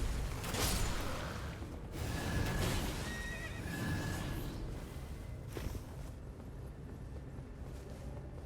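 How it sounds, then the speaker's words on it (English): A horse in a video game gives a loud neigh and whinny, with clip-clopping hooves and shuffling movement around it and some game sounds in the background. "Get out of the way, horse."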